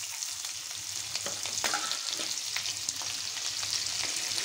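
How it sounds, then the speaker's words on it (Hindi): Whole cumin seeds sizzle steadily in hot oil in a pan, a dense crackling hiss with scattered small pops, loud and close throughout, no voices. "तेल हमारा गर्म हो गया है, अब इसमें हम जीरा डाल देंगे।"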